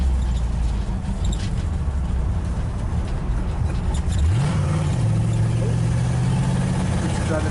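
A 1959 Ford Galaxie 500 engine idles roughly and nearly dies, then catches with a rising, wavering note as it recovers. It is loud and close, with a continuous rumble.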